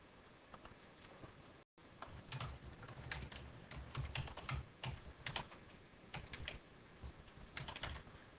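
Quiet, close typing on a computer keyboard: an uneven run of light key clicks in small bursts, with a short gap near the start and no talking.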